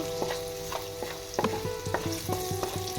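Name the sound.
stirring jackfruit in a clay pot with a spatula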